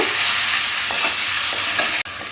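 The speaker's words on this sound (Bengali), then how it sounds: "চিকেনটাও মশলার সাথে খুব ভালো করে কষে নেব" Chicken sizzles steadily in a hot pan as it is stirred and fried with spices for Bengali-style kosha murgi, with soft scraping strokes of the spatula rising from the loud, continuous frying hiss.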